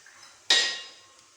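A ladle knocks once against a pot of drumstick sambar, a single loud metallic clank that rings and fades, followed by a faint tap.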